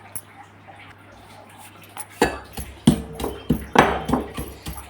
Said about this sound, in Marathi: आता खलबत्त्यात मला कुटून घ्यायचं आहे.